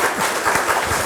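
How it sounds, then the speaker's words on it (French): Audience applause at a French protestant book festival round-table, a dense steady wash of many hands clapping throughout, fairly loud and continuous with no talk. "Je crois qu'on peut vous applaudir."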